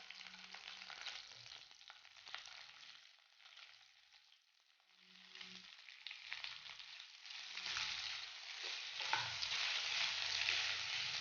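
Boiled chicken frying in sesame oil with curry leaves gives a steady, soft sizzle with faint crackles and occasional stirring bumps, close and quiet, swelling a little louder toward the end.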